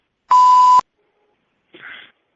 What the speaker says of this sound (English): Here's our beep.